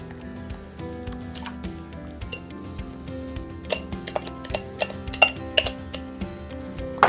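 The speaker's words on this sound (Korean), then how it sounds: "고기를 넣습니다." Meat dropped into hot oil in a wok sizzles continuously while metal utensils clink and scrape against the pan in a run of sharp ticks, close and moderately loud.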